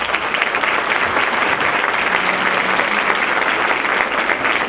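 Steady, dense applause fills a conference hall for a few seconds, an audience clapping together at a panel on data protection law in Mexico City.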